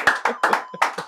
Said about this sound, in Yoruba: Ṣé kò yẹ kẹ́ ẹ pàtẹ́wọ́ ni?